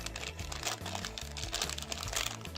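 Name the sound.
opening a Dracco Heads blind pack wrapper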